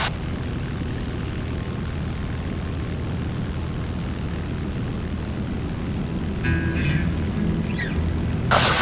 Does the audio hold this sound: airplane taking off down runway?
yes